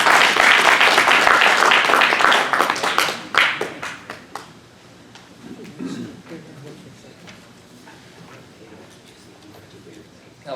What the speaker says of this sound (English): give a warm hand, a warm applause to Jim Condit Jr.